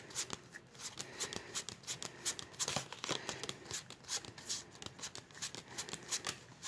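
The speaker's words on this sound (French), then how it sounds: "Je mélange un paquet." A deck of tarot cards is shuffled for a love reading, giving a close, steady patter of riffling and flicking cards that lasts throughout.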